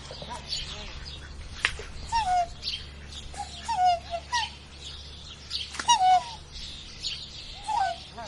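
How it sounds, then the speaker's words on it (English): A swan gives several short, faint calls at intervals over a continuous low outdoor background, with other birds chirping in the distance. "Yes, it's a swan."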